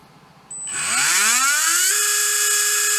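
A 2024 HobbyWing V10 G4R 17.5T brushless RC motor spinning up on a test run to about 25,000 RPM, its whine sweeping upward then settling into a loud, steady high-pitched drone.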